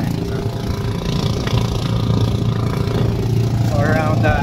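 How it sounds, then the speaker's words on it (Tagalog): Outboard motors of Filipino outrigger boats run steadily off Calatagan, Batangas, on a windy day at sea. A continuous low engine drone and rumble persists throughout under gusting wind noise, with faint voices near the end. "At medyo maingay na yung mga bangkero, mga bangka."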